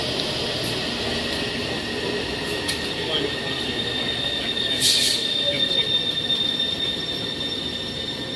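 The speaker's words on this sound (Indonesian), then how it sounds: "Itu dia keretanya sudah datang." An MRT metro train pulls into the station with a sustained high-pitched wheel squeal and a steady rumble underneath, loud and close throughout.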